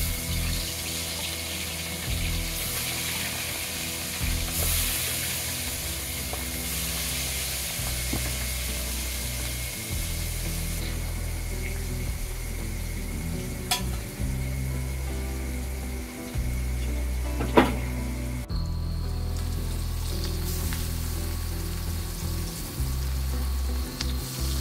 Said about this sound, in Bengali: হ্যাঁ, তেল খুব গরম হয়ে গেছে, আমি মাছগুলো দিয়ে দিচ্ছি।